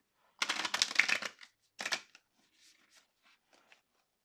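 Tarot cards are riffled in two quick, soft bursts at close range, followed by quieter scattered taps and slides of handled cards in an otherwise silent room.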